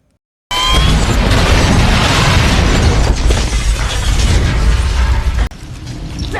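After brief silence, a loud sudden bomb blast in a film erupts into sustained roaring and crackling debris, then cuts abruptly to a quieter rumble.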